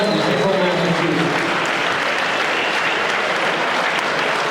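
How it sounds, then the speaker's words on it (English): Loud, dense crowd applause rings out at a boxing event in Massachusetts after two fighters finish four hard rounds, sustained and even throughout. "how about a round of applause for both of these warriors going 4 hard rounds tonight"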